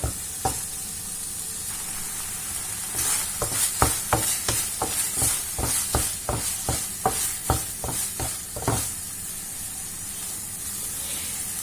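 A compote simmering over low heat, stirred at a steady pace, giving a soft continuous sizzle and hiss broken by a run of rhythmic scraping strokes close by.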